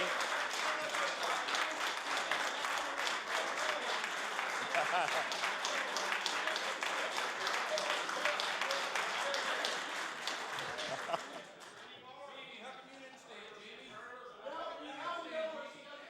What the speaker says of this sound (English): so I guess they cheer